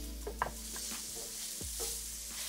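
Chopped onion and button mushrooms fry in a pan with a steady, close sizzle, broken by a few scraping stirs and light utensil knocks.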